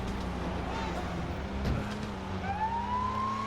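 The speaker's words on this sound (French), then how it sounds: "Là, je mets les sirènes." A police car siren in the video game LEGO City Undercover winds up near the end over a low engine hum, its rising wail thin and moderately quiet.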